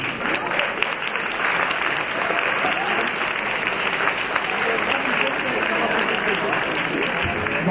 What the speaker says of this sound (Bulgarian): още веднъж ще ги изпратим с аплодисменти